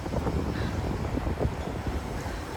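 Outdoor wind blusters at Olympian City, Hong Kong, a rough broadband rush buffeting the microphone continuously for a few seconds, with no voices.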